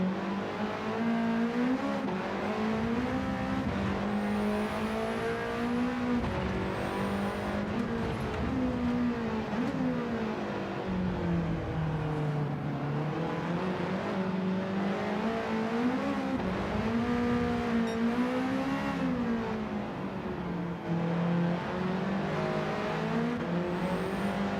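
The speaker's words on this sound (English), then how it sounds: "It is an old Corvette, isn't it? Multiple exhausts." Several old Corvette-style racing cars with multiple exhausts drone and rev steadily throughout a video game race, engine pitch rising and falling with shifts, loud and continuous with no talk.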